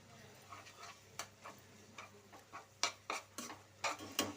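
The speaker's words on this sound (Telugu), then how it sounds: "నేను ఒక అర అల్లం వెల్లుల్లి పేస్ట్ వేస్తున్నా" Ginger garlic paste dropped into tomatoes frying in a pan for a brinjal and dry fish curry, with a quiet sizzle under sharp, rhythmic spoon taps and scrapes close by.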